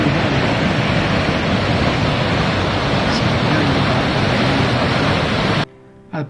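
Water flowing from Aliyar dam roars as a loud, dense, steady wash of noise close by, then cuts off abruptly near the end.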